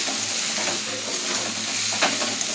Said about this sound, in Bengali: এই যে এবার আমি ভাতটা দিয়ে ভালো করে নাড়াচাড়া করছি।